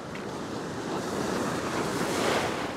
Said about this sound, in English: just gotta watch these waves.